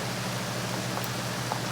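Heavy pouring rain on a river in Sabah, Borneo makes a dense, steady hiss with no voices.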